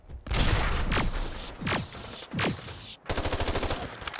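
Gunfire from a modded Fallout 4 firefight, loud sustained bursts with sweeping laser-like zaps and a fast pulsing stutter of shots at the end.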